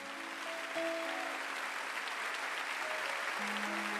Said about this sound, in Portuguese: Dê uma salva de palmas forte a Jesus por isso.